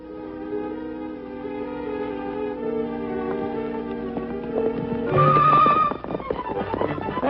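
Horses clip-clop and neigh close by, steady hoofbeats joined by a loud, high whinny near the end, over a tonal musical background.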